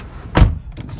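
Power window on a 2006 Pontiac G6 in operation, a short motor whir and thump near the car door, followed by a fainter second movement shortly after.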